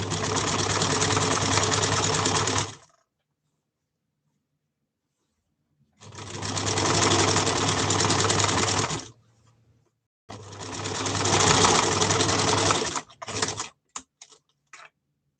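A sewing machine stitching a narrow rolled hem runs in three loud, close bursts of rapid whirring, with silent gaps between them, then a few short stuttering stops at the end.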